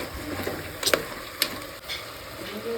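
Marinated chicken being stirred in a hot pan for chicken biryani, with soft sizzling frying under a few scraping clicks of the spoon against the pan, close and moderately quiet.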